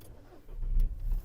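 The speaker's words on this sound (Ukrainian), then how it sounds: "Давайте запустимо двигун." A Volkswagen Touran 1.6 MPI petrol engine with 192,000 km cranks and catches on a cold start, a low rumble swelling up and settling into a steady idle, close by.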